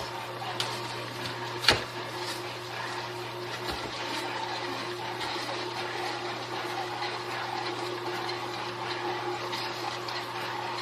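A Tribest Slowstar vertical slow juicer runs steadily on green produce, a quiet, even motor hum with faint grinding texture and one sharp click near the start.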